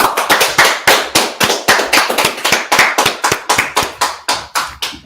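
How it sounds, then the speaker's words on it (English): Audience clapping in unison in a hotel ballroom during a Purim feast gathering, loud and close, a steady rhythmic beat of sharp claps with no talk over it. "All right, let's clap it up."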